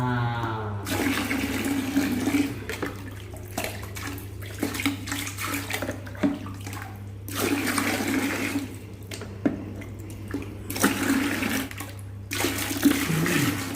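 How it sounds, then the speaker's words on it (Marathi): Water running steadily in a bathroom, a continuous broadband rush with brief pauses and surges, fairly loud and close, without speech. "पाण्याचा आवाज येतोय"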